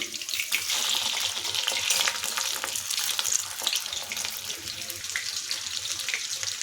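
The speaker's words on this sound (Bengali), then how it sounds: "সাদা তেল গরম করে চিলি চিকেনের জন্য চিকেন পকোড়াগুলো ভেজে নেব।" Chicken pakoras deep-frying in hot refined white oil for chilli chicken give a steady, dense sizzle and bubbling that fills the whole stretch at close range, with no voices.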